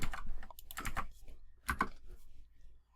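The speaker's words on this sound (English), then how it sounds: "God, I'm loving this Razer keyboard so far." Typing on a Razer computer keyboard: rapid, close keystroke clicks in uneven bursts, with a brief pause in the middle before another quick cluster of taps.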